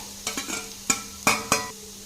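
Chopped carrot is stirred into a bread and vegetable bonda mixture in a bowl, five short scraping clinks spaced unevenly and heard up close with nothing else around them.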